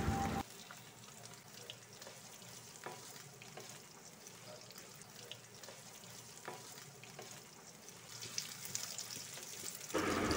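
Onions frying in oil with whole spices for shahi paneer, a soft steady sizzle with light stirring scrapes, fairly quiet throughout.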